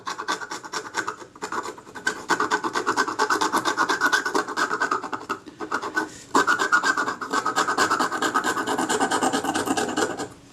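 Old adhesive residue being scraped off a Kodak Retina IIIS camera body, a close, continuous rasping scratch of rapid strokes with brief pauses, steady and fairly loud with no voices.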